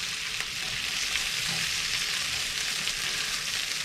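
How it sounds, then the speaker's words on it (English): Onions and bacon fry in a pan, giving a continuous, close, even sizzle with faint crackles and light stirring throughout and no talking. "The onions are just starting to caramelise now"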